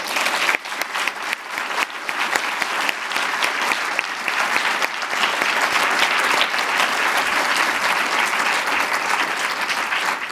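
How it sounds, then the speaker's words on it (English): An audience claps after an author conversation at a library event, the applause starting with scattered claps and swelling into a steady, sustained ovation. "One more round of applause."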